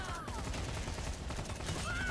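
Weapon fire from a gun in the video game LawBreakers sounds as a brief burst of shots under a busy, layered game mix, fairly quiet and short.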